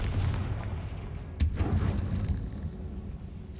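A Confringo blasting spell cast in Hogwarts Legacy lands as a single sharp, moderately loud blast and fades into a rumbling tail over steady game ambience.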